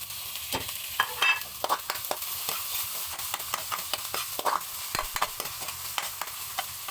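Onions cooking in a pan for pork dinuguan, a soft sizzle under frequent clicking scrapes and taps of a spoon stirring, fairly quiet and close, with no talking.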